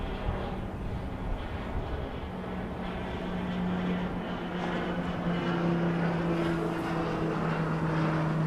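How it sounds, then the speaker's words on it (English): A NetJets Bombardier Challenger 350 jet arrives at Dallas Love Field at night, its engine roar a steady, moderately loud drone that swells slightly toward the end. "looks like we've got a NetJets Bombardier Challenger 350 coming in from McKinney Airport"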